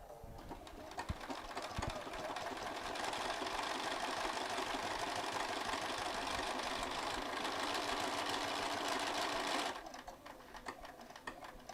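A Bernina sewing machine stitches steadily with a fast, even mechanical whirr for about ten seconds, then stops, leaving quiet room sound.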